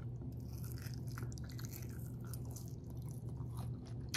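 Close chewing and crunching sounds of someone eating pork barbecue, with soft bites and squishy mouth noises over a low steady background hum.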